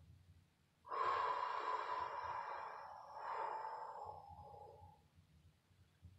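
A deep, steady exhalation of breath during a relaxation exercise, a broad airy rush lasting about four seconds that swells again midway before fading out, fairly close and alone.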